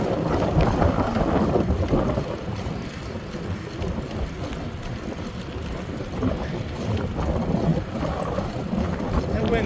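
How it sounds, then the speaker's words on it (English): Steady wind roars and buffets the microphone throughout a bike ride in Plainfield, blowing hard out of the west as a constant, loud, low rumble. "That wind is straight out of the west."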